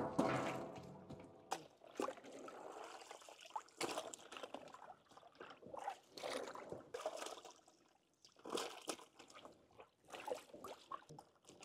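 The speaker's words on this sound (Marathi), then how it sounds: "आपण आता दोडके स्वच्छ पाण्याने धुवून घेऊ।" Ridge gourds are rinsed in clean water, giving faint, intermittent splashes and trickles that come in short irregular bursts at low volume.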